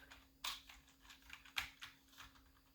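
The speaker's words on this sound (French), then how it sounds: "Je vais appuyer sur toutes les touches de mon clavier." Keys on a computer keyboard are pressed in quick, uneven bursts of clicks and taps, close and quiet with a faint steady hum behind, during a World of Warships gaming session.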